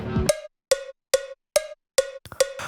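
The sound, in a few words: beat in 3/4 time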